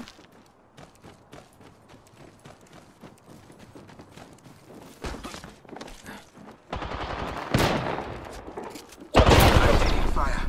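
Gunfire in Apex Legends: faint scattered shots at first, then louder sharp bursts that build toward the end, with heavy close volleys over ongoing game sound.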